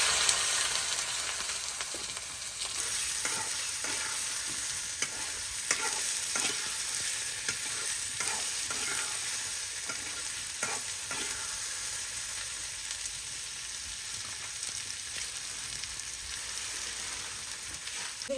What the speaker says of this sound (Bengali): তেল গরম হয়ে গেছে, কাঁচামরিচ আর পেঁয়াজ দিতেছি।